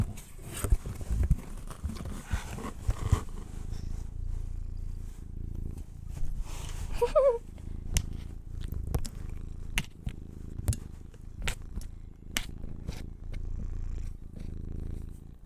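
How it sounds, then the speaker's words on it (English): A pet cat purring close to the microphone, a steady low rumbling drone that runs throughout, joined partway by a brief squeak and a series of sharp clicks and taps. "She's purring loudly."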